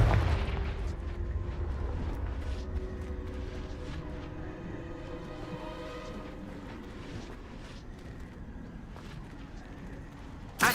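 Booming spell blasts from a Hogwarts-themed wizarding video game, a dense rumbling barrage loudest at the start, then a steady roar of crackling impacts layered beneath it and a sharp burst at the very end.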